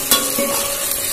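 Ginger paste dropped into a hot pan and stirred, a close, bright sizzle with a sharp scrape at the start fading into steady frying.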